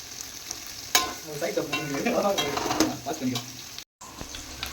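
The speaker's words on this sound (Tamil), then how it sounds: "வெங்காயத்தை போட்டு நல்லா வதக்கணும்." Onions for masala biryani sauté in a hot pan, a close, busy sizzle with stirring scrapes that swell in the middle, then cut out briefly before resuming.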